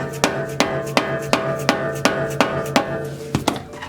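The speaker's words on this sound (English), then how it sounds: "Just use a dead blow hammer to tap it in there" Steady dead blow hammer taps on a tie rod of an Acura RSX Type S, about three per second, each a dull thud with a short ring, repeated evenly with a quick double tap near the end.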